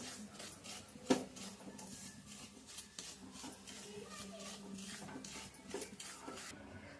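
Semolina roasting in a thick pan for coconut and semolina laddoos, stirred quickly and constantly. Faint, continuous scraping and rubbing with soft clinks of a utensil against the pan and one sharper knock early on.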